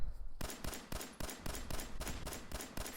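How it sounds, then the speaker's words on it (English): Rapid gunfire in Fallout 4, a loud, evenly spaced string of about ten close shots in quick rhythm with harsh, cracking bursts, no voices. "There's some weird audio going on with the gunshots."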